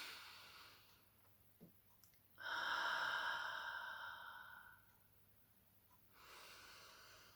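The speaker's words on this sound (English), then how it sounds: "in breath, out, the noisy releasing out breath" A slow, noisy out-breath released during meditation breathing, a long audible sigh-like exhale close to the mic that fades out, followed by a softer breath, with quiet room hiss between.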